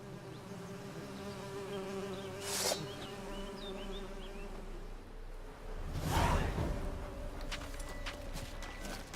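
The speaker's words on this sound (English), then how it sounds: "The birds singing, the bees buzzing." Bees drone steadily outdoors in The Witcher 3, a continuous close buzzing hum with a couple of brief swishes and a soft thudding passing through the middle.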